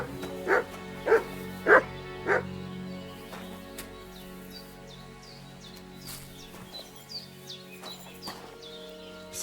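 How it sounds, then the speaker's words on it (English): A dog barks in the medieval role-playing game Kingdom Come: Deliverance 2, giving four loud, evenly spaced barks followed by fainter, quicker yips over a steady outdoor ambience with birds. "Good dog, Mutz. Show me"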